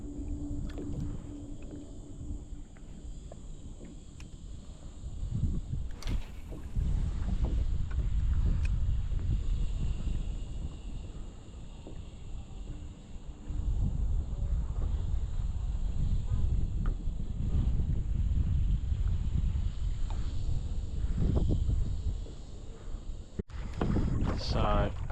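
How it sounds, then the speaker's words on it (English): Strong coastal wind buffets the microphone while fishing on the Central Coast of New South Wales, a loud, continuous low rumble that surges and eases, with faint water sounds underneath. "So, as you can probably hear, there's a fair bit of wind coming this way."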